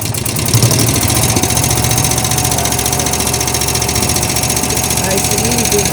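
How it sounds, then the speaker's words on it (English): A motorhome generator engine drones steadily at a constant idle, loud and close, with a low humming vibration and no pauses. "This isn't the engine itself, it's just the generator."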